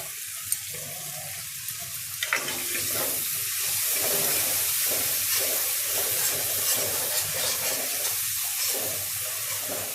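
Curry leaves and coriander leaves dropped into hot oil, bursting into a loud, steady hiss and crackle that rises after a brief quiet start and carries on evenly.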